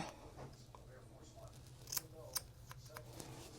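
Scissors trim a small stray piece of hair during a haircut, giving two or three faint, crisp snips over a low steady hum in a quiet room.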